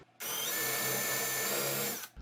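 A power drill whirs loudly at a steady high pitch for about two seconds, drilling a hole through wood, starting and stopping abruptly, close by.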